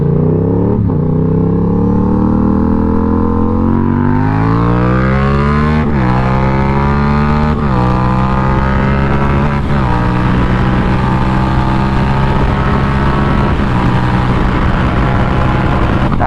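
Loud, close engine roar from a 2020 Yamaha MT07 motorcycle with a GRMOTO full exhaust system and no baffle, ridden in the Yorkshire Dales, climbing hard through several gear changes with pitch rising and dropping, and no voices.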